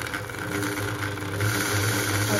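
An overlock sewing machine runs with its motor come loose from its mount, giving a steady, continuous mechanical hum with a rattling edge that holds at an even level throughout, close by and with no talking.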